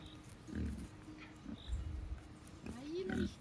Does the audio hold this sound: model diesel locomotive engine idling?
no